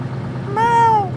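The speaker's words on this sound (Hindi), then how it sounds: "ये क्या है? बीच सड़क पर बिल्ली?" A cat on the road, one clear mid-length meow that rises and then falls, loud over a low steady rumble of background hum.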